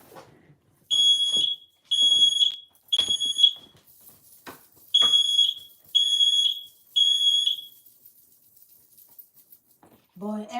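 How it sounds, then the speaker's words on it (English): A smoke alarm set off by burning sage shrills in loud, piercing beeps, six evenly spaced bursts in a steady rhythm, followed by a brief voice at the end. "every time I light my motherfucking sage, that alarm go off."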